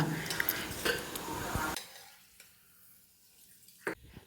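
Freshly made coconut oil is stirred in a pan, with scraping and clinking of a utensil against metal for the first couple of seconds, then quiet with a faint tap near the end.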